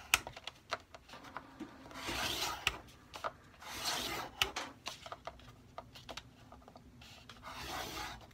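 A tool scores the spine of a handmade book every quarter inch, giving repeated scraping and rubbing strokes with sharp taps in between, close and fairly quiet, with no voices.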